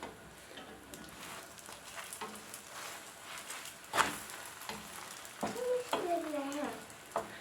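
Msemen flatbread sizzles steadily in a pan, with a spatula scraping and flipping it partway through amid light clatter and a few brief tonal clinks near the end.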